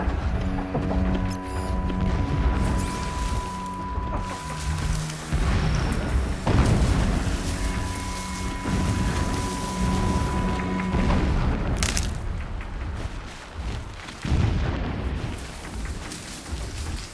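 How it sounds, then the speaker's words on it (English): Distant explosions in the video game Horizon Zero Dawn, heard as deep, rumbling booms that recur throughout amid other game sounds, with no voices over them. "Explosions in the distance."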